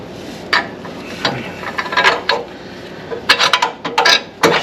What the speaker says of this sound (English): let me put my motor mount bolt up in there.